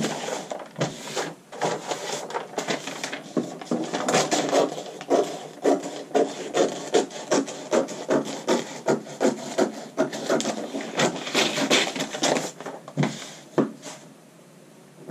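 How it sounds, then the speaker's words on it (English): Rhythmic scissors or shears cut through paper pattern along curved princess seam lines, a steady series of close, crisp rasping snips with no talking. "Now we can go ahead and cut and separate our princess seams in the back."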